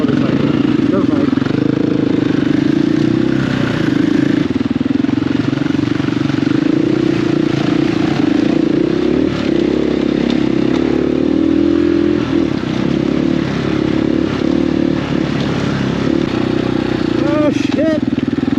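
A registered dirt bike runs along a wooded trail during a pre-run of a New England enduro route, its engine droning steadily and loudly at close range, with riders' voices talking over the motor.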